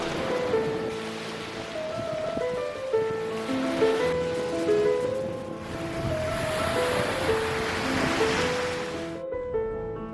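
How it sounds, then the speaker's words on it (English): Ocean waves roll and wash steadily at Paleochora, Crete, while wind rushes past, a continuous layered roar with gusts swelling and fading. "listen to the waves and the sound of the wind"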